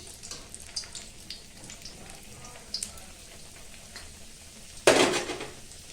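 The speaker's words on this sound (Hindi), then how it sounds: "तो इनको डाल देंगे घी में" Gujiya sweets being fried in ghee. Faint sizzling and light utensil clinks lead up to a sudden loud burst of crackling hiss that slowly fades. No voices.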